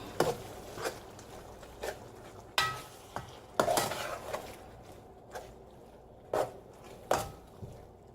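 A spoon stirs dirty rice in a pot, making repeated scraping strokes and clinks against the pot at an uneven pace over a soft background sizzle, close but fairly quiet.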